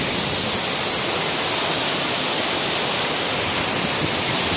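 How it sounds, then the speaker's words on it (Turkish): A dense, continuous roar of rushing water from Ağaran Waterfall in Çayeli, Turkey, close by, fills the whole stretch with no voices. "şu anda Çayeli Ağraş Şelalesi'ndeyiz."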